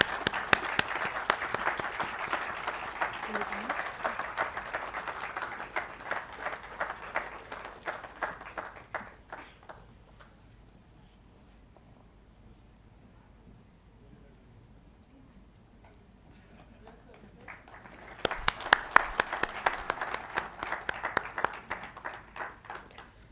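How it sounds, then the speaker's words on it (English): Convocation audience applauds graduating students in a hall, a sustained round of clapping for several seconds that fades to quiet, then a second loud burst of applause returns near the end. "Let's have again a huge round of applause for the students."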